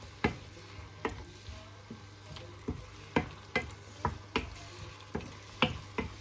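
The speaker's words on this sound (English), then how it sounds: "We stir a little bit." Spaghetti sauce is stirred in a pan with a utensil, making a quiet, regular series of clacks and scrapes against the pan over a faint sizzle.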